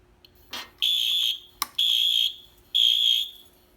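A fire alarm panel sounds during a key switch test of a heat detector, three loud, steady high electronic tones in succession, each preceded by a short click, close and alone.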